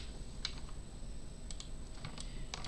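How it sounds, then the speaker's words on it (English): A computer keyboard gives a few faint, scattered key clicks over a steady low room hum, quiet and sparse rather than continuous typing. "you can also hit 3 on your keyboard and you get it smoothed out"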